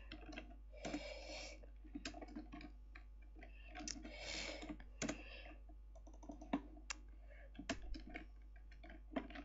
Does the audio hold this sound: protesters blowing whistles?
no